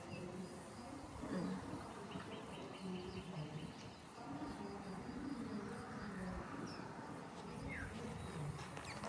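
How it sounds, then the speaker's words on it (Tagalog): Faint bird calls, including soft cooing and chirps, drift in from outside a house in Australia near a highway. A constant low background wash runs beneath the calls. "ang madungog kay mga huni ng mga ibon."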